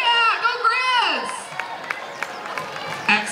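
Spectators cheer along a road race course in Missoula as runners pass, with whoops and shouts rising over a crowd murmur, a few sharp claps and an emcee talking over the top.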